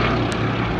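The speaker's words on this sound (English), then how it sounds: "The engine is the Bristol Mercury 9-cylinder radial." A Gloster Gladiator biplane with a Bristol Mercury nine-cylinder radial engine drones at an airshow, a loud, steady propeller roar held without a break throughout.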